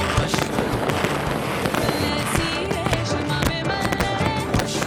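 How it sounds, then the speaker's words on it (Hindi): Fireworks crackle and pop in rapid, dense bursts at a festival show over a stadium, a continuous barrage of sharp bangs filling the air with a busy, noisy backdrop. "आतिशबाजी के मुजाहरे ने आसमान को रंगीन बना दिया।"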